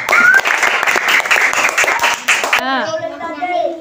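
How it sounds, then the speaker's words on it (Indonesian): Students in a classroom clap their hands together in a lively burst for about two and a half seconds, then a voice takes over, singing or speaking alone. "tepuk tangan untuk kalian semuanya"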